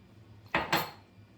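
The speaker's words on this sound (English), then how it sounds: "so we just stir that around" White granulated sugar stirred in a mixing bowl for cookie dough, heard as two quick, close scrapes of a utensil against the bowl in a quiet room.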